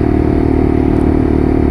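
A Lexmoto LXR motorcycle on a test ride gives a steady, loud exhaust drone with a fast, even engine pulse throughout, close up and without speech.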